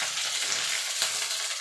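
Cauliflower and potato pieces frying in a pan, a continuous close hiss and crackle of oil that holds steady throughout, with faint stirring scrapes.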